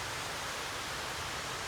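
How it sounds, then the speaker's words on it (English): A waterfall on the Maligne Pass trail in Jasper gives a soft, steady rushing hiss, distant and even, with no voices. "This has to be that waterfall."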